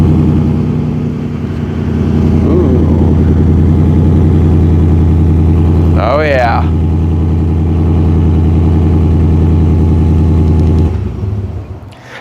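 A 2022 Ford F-150 FTX with a 5-liter V8 and performance exhaust idles loudly and steadily with a deep throbbing rumble, a voice speaking briefly over it before the engine note drops at the end.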